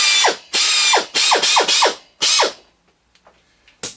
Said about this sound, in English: little air drill.